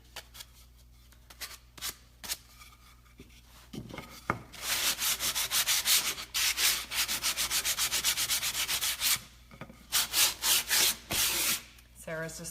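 Wood sanded by hand with roughly 120-grit cloth sandpaper while making a serving tray: close, loud rhythmic rasping strokes in bursts, after a quieter stretch of faint rubbing and handling.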